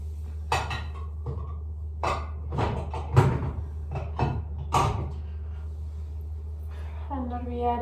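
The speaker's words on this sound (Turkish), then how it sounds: "Önce şu çiftlikten getirdiğim tencerelerimi, tavalarımı yerleştireyim." Pots and pans clatter and knock as they are set into cupboards, a series of irregular metallic bangs over a low steady hum.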